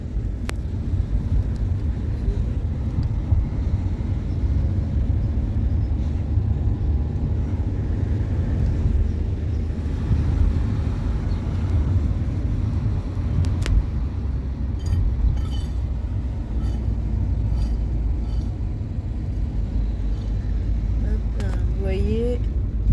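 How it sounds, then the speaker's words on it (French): A car drives toward the beach through the Las Marinas area of Denia, its interior rumble steady and loud throughout, with wind buffeting the microphone and a few small clinks. "On va essayer d'y aller en voiture jusqu'au bout."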